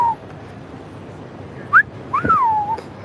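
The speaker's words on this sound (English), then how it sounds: "No, I'm whistling at the pigeon." Short whistled notes, a brief rising chirp followed by a longer sliding whistle that falls in pitch, close by over a faint background hum.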